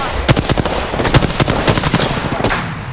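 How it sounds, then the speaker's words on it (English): Video game gunfire comes in rapid bursts of loud, close automatic shots, a rattling stream of cracks that keeps going across the clip. "Getting shot at."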